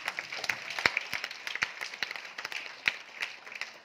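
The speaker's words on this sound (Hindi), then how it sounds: "ये जो पहली बार आए हैं उन लोगों के लिए जोरदार ताली हो जाए।" A modest round of clapping from a small audience at a leadership training camp, sparse and uneven claps close by, fairly quiet and brief.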